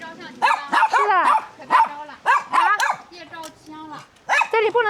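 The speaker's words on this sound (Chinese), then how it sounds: "2條狗，一黑一白。" Two dogs, one black and one white, bark and yip in short bursts at a mountaintop temple in China, close and loud, with some whimpering between the barks.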